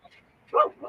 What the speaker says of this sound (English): she's still barking at him